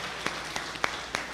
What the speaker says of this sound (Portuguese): Vamos aplaudir ao Senhor porque Ele nos dá essa oportunidade.